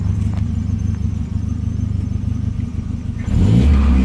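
A Volvo 240 Turbo with a cam idles close by in a low, steady putting rumble, then the engine note swells louder and deeper in a brief rev near the end.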